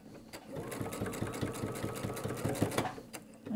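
A sewing machine stitches a jelly roll rug of fabric strips, running in a steady close rhythmic whir of rapid needle strokes that pauses briefly near the end.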